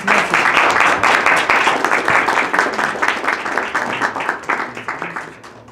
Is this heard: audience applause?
yes